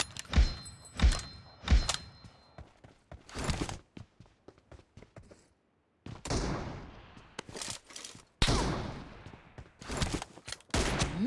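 Gunfire from the PUBG / BGMI battle royale game: a few sharp, heavy shots at the start, then scattered bursts and rattling volleys separated by brief gaps, loud and close with no talk over them.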